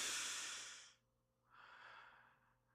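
A person takes one deep breath: a long, soft airy inhale followed after a short pause by a gentler exhale, close and quiet with no talking.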